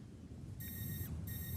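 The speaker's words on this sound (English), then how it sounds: "that alarm only lasted, how long was that? A couple of seconds." In Metal Gear Solid on the PS1, an alert alarm blares during the heliport stage: a bright, buzzing electronic tone starts partway in, cuts out briefly, then returns over low background game ambience.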